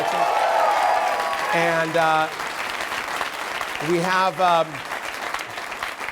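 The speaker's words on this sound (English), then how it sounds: "Feel free to applaud for him." Audience applause for a guest at a live comedy tech show, a broad steady wash of clapping that fills the clip while a presenter talks over it.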